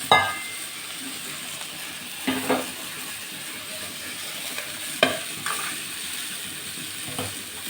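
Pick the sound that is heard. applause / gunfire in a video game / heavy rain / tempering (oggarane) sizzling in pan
tempering (oggarane) sizzling in pan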